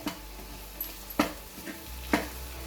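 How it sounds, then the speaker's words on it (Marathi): Onion sizzling in hot oil for a Malvani-style onion sambar tempering, a low steady frying hiss broken by a few sharp stirring scrapes against the pan, close and alone with no talk. "फोडणीला घातल्यानंतर हा कांदा छानसा सुटला जातो बघा."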